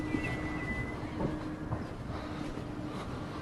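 A tram rolls past in Fleetwood, a low steady rumble of wheels on track with faint clicks and a thin whine, moderately distant and continuous with no voices.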